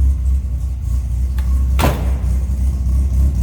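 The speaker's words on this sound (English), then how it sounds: "Can you get that exhaust note?" A 1965 Sunbeam Alpine Series IV convertible idles with a deep, steady exhaust rumble close by, broken by a brief sharp knock or clunk partway through.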